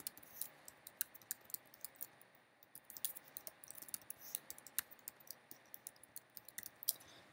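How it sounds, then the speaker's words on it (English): Computer keyboard typing an email address into a board-fabrication upload form; a steady run of quiet, crisp key clicks, close and alone, with irregular rhythm and a few sharper taps. "I'll type in my email."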